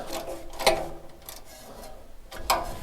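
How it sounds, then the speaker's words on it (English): A small spanner works loose an exhaust O2 lambda sensor on a Lotus Evora, giving a few sharp metallic clicks and ratcheting knocks spaced apart over a faint background. "Put a little spanner on and undo it"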